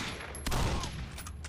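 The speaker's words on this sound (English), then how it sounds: "I literally have no idea who's shooting the fucking gun." Gunfire in the video game Condemned: Criminal Origins: a few sharp shots ring out over a loud, rumbling background with a thin high whine, close and harsh, with no speech.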